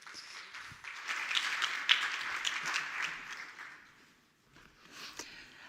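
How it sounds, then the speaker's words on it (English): An audience at an education conference for early years and primary teachers gives a short round of applause, fairly quiet and uneven, fading out briefly before a few scattered claps return. "Please, a big applause to Ginta."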